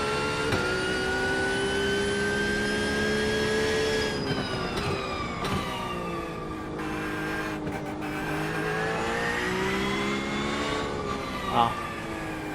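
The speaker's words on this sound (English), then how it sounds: "The Porsche sounds better." A Porsche race car at Sebring during practice, its engine holding a loud, steady high drone with smooth pitch swings as it revs up and down, heard up close throughout.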